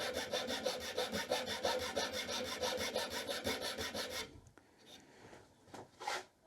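A light file chamfers the corners of a wooden ferro rod handle in quick repeated rasping strokes, close and steady for about four seconds, then stopping, followed by a few faint handling clicks and scrapes.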